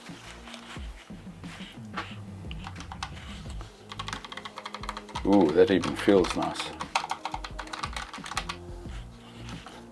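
Typing on a Keychron K1 low profile mechanical keyboard with Mac keys, a solid, heavy board: scattered key clicks, busier in the middle, with a person speaking over parts of it.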